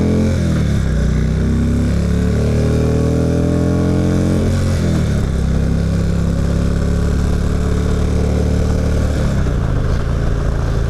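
A 2016 Indian Roadmaster motorcycle pulling away on a ride, its engine loud and close, rising in pitch through the gears with brief shift dips, over steady wind noise.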